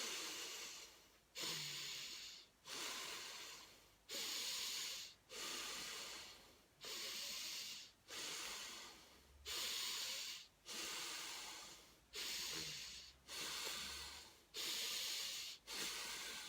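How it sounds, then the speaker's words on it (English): Slow belly breathing in a guided relaxation exercise: about a dozen long, even breath cycles, each a steady airy rush through the nose with a short pause between, close and alone with no talking. "So let's just do a little bit of breathing now before we finish."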